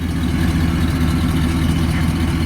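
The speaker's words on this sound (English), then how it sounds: "there is that big V8 firing to life and sounding the way it would have sounded back in 73" A 1973 Buick Riviera Boattail's big V8 idles with a loud, steady low rumble through aging mufflers, an even throbbing drone heard close and alone.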